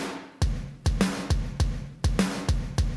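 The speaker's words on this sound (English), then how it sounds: "Some kind of a compressed drum kit." A fat, heavily compressed virtual drum kit for a metal cover pounds out a steady beat, with thick kick and snappy snare hits every few tenths of a second and bright cymbal wash, up front and unaccompanied.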